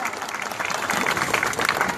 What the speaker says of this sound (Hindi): जोरदार तालियों से इस्तेकबाल कीजिए उनका